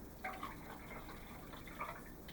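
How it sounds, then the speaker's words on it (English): Water is poured into a coffee and pumpkin pie mix drink, a faint soft trickle with a couple of small splashy bursts, alone and quiet. "But now we're going to add more water"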